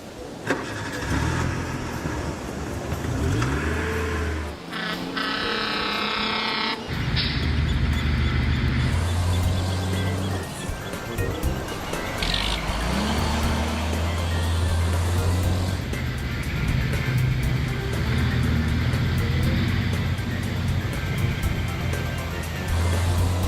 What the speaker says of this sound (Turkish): Hadi arabamızı piste sürelim.